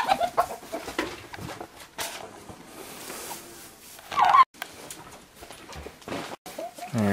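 Backyard chickens cluck in short, scattered bursts near a farm building, with rustling and handling noises in between.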